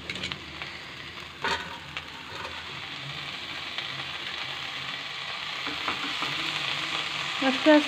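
Chopped betho greens stirred into masala frying in a pan, a steady close sizzle with occasional clinks and scrapes of the spatula and a few sharper knocks near the end; no talking.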